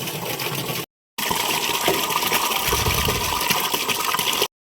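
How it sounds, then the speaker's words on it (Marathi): Water gushes steadily into a household water heater as it fills, a continuous close rushing flow with no talk. "इकडं हिटर भरून घेते आता हिटर लावलं भरायला"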